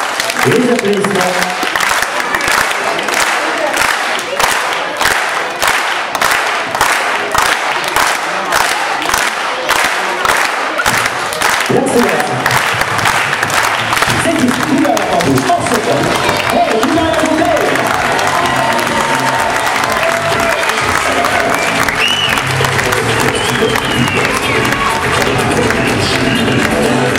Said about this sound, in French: Les applaudissements.